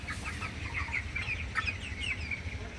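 Broiler chickens on a farm keep up a soft, continuous chorus of clucks and chirps, several birds at a moderate distance over a low background rumble.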